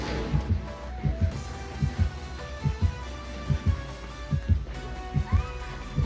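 Dead by Daylight's in-game heartbeat, a low double thump repeating at a steady pace under a layer of game music and ambience, fairly close and moderate in level.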